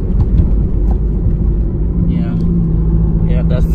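A Toyota MR2 cruising in fifth gear gives off a steady, loud low engine and road rumble from inside the cabin, constant throughout with no gear change.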